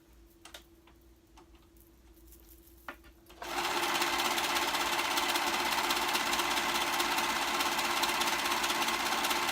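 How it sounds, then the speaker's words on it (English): A serger overlock machine stitches the seams of a garment, starting after a few seconds of quiet handling and then running loud, steady and close for the rest. "now I'm going to go ahead and serge those seams"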